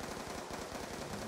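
Rapid machine gun fire shot through a wall during a Call of Duty: Black Ops 2 campaign battle, a dense burst of quick repeated reports running steadily for about a second.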